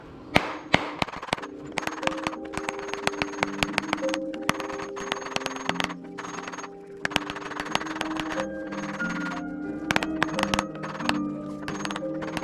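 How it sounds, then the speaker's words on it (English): A hammer strikes a metal sphere being shaped for a Meridia's Beacon prop, giving sharp, ringing clangs in quick uneven bursts, some with lingering metallic tones, close and clear throughout. "Let's continue hammering."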